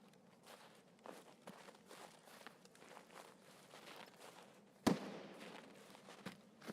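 Soft, quick footsteps of a running player in Escape from Tarkov on the Woods map, faint and steady, cut by one sudden loud bang and a smaller thump near the end.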